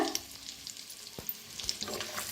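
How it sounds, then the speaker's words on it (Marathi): Eggs fry in a pan with chilli powder and salt for egg curry, a crackling sizzle broken by frequent sharp pops and spits, fairly close and moderately quiet. "तर छान असे अंडे फ्राय करून घेऊया।"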